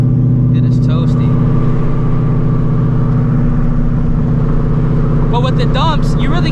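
Supercharged Shelby GT350 with exhaust dumps drones steadily at cruise, a loud continuous engine rumble inside the car, with a voice talking over it briefly at the start and end.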